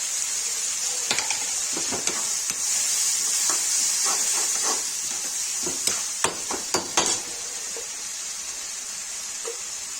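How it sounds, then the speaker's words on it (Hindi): Chopped tomatoes frying in a pan hiss and sizzle steadily up close, broken by scattered clinks and scrapes of a utensil against the metal. "ये टमाटर डाल देंगे, इसको भून लेंगे"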